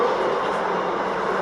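A New York subway Z train running toward Broad Street, a steady loud roar of wheels and motor with no breaks, heard from on board.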